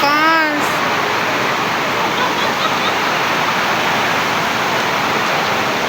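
Floodwater rushing during a typhoon, a loud, dense, unbroken roar close by, with a short voice-like wavering tone at the very start before the torrent carries on alone.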